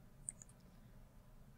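A computer mouse clicks while someone steps through HMI setup screens for a Rockwell Automation PlantPAx batch sequencer emulation, with two faint, quick clicks close together amid low room hiss.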